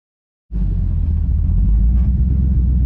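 Project truck with hydro-boost brakes starting to drive, a deep low engine rumble rising abruptly from silence and continuing steady and close, with no talk.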